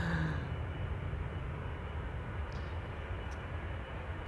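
An SAS Airbus A320neo jet departs Amsterdam Schiphol with a steady, distant engine roar that holds evenly throughout, with no voices.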